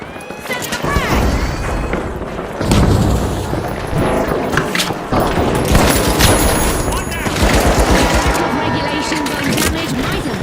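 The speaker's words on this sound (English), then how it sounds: "Sending a frag." Loud video-game explosions from a thrown frag grenade in a ranked match, several heavy booms amid gunfire and chaotic combat noise, with a voice talking over them.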